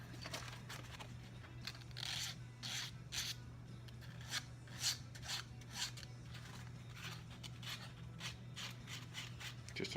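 A hand file rasps a small chamfer on a Norton Commando engine part, with quick repeated strokes at an even rhythm, close and clear over a low steady hum.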